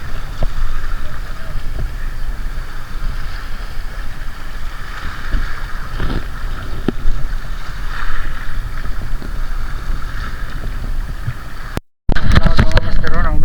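Steady rushing wind and water noise from a fishing boat out on open sea, a constant roar with a brief dropout near the end.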